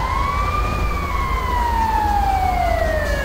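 Ambulance sirens in GTA V with the LSPDFR police mod: one loud, continuous electronic wail that slowly rises and then glides downward, over a low steady rumble, with no talking.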